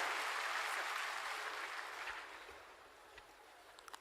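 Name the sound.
applause welcoming the principal secretary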